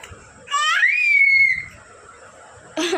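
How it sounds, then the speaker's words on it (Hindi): A baby girl about five months old lets out a loud rising scream with a harmonic, squealing quality, lasting about a second, then falls quiet before another burst of noise at the end. "देख कैसे चिल्लाती है"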